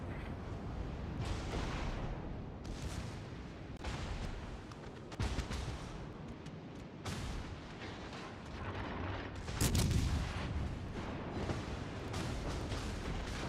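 Naval video game combat, with repeated heavy cannon booms and rumbling blasts in a dense, continuous barrage, fairly faint overall.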